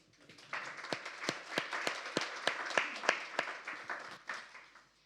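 A small audience at a sustainable-development workshop claps in sparse, distinct hand claps, about a dozen sharp strikes at an uneven pace over a soft bed of patter, then dies away.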